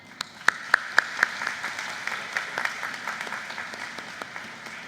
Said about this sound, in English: Please join me in applauding all the persons who played a fundamental role in ensuring that this treasured dream became a reality.